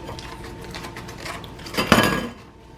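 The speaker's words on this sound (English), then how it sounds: "you're simply going to take your spoon, go right down the middle" A spoon scrapes down the middle of a grilled artichoke, giving a cluster of soft scratches that rise to one louder scraping stroke near the end before fading.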